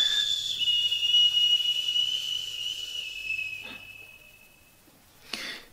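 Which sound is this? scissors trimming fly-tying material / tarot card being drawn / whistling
whistling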